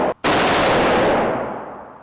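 A rifle loaded with a 30-round magazine fires a loud, dense, continuous burst at close range after a brief gap, with the roar tailing off toward the end.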